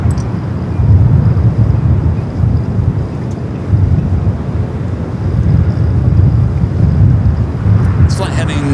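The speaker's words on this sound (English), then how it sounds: "Got that Frontier A321 Neo now pushing back" Steady broadband roar and rumble of a Frontier Airbus A321neo pushing back at LAX, a continuous loud engine and ground-equipment drone with no speech.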